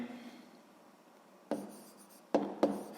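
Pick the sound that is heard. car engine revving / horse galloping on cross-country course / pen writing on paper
pen writing on paper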